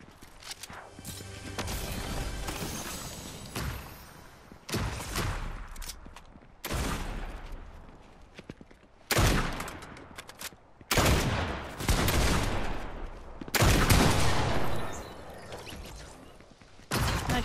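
Bursts of Fortnite gunfire, rapid volleys and single shots arriving in loud, uneven clusters with short gaps between, close and punchy, no voices.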